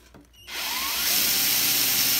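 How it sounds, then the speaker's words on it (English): A power drill bores slowly and steadily into the plastic dust cover of a Technics turntable, starting after a brief quiet moment and then running as a continuous close, loud whir. "So as I'm drilling this last hole on this crack, I'm going as slow as possible."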